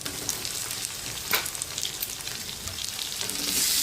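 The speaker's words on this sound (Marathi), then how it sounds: "आता याच्यामध्ये आपल्याला टोमॅटो घालायचे आहेत" Tomatoes sauté with onion in a hot pan for karadi leafy-green bhaji, giving a steady close sizzle and crackle that grows a little louder toward the end, with no talking.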